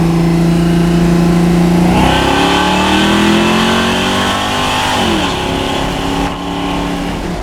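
A 1969 Ford Torino V8, about 350 cubic inches with AFR heads, idles loudly up close and then revs up twice in rising sweeps before settling back.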